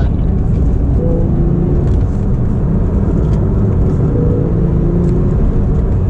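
Porsche 991.2 911 on the move, a steady, loud low rumble of engine and road noise inside the cabin, with no clear revs or gear changes.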